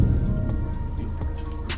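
Steady rain falls at night in a Korean drama scene, a dense continuous hiss with scattered drops tapping on surfaces, fairly loud and close, with no voices.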